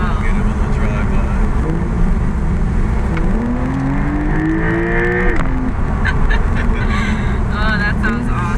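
A brand-new Porsche 911 drives by in hurricane weather, its engine rising in pitch as it passes under heavy wind and rain noise, with people talking over it.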